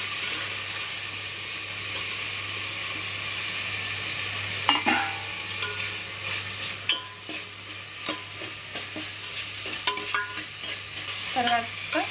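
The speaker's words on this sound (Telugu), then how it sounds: "ఇప్పుడు ఉల్లిపాయలు వేసుకుందాం" Onions hiss and sizzle in a hot pan with ginger paste while being cooked for chicken biryani, a constant frying crackle broken from midway by irregular scraping stirs of a spoon against the pan.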